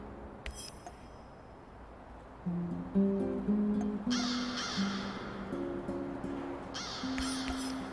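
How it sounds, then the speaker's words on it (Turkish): Several crows caw repeatedly in the game Chernobylite over a steady background hum, harsh calls coming in bursts alongside some tonal game-like music notes. "kuş sesi geliyor muydu ya?"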